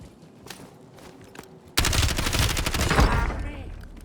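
Loud, dense automatic gunfire in Call of Duty Warzone bursts in suddenly after quieter footsteps and faint shots, sustaining a rapid rattling barrage close by until it tapers near the end.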